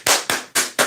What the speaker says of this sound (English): Who claps like that as a man?